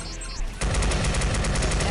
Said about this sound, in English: Oh, I love this rapid fire.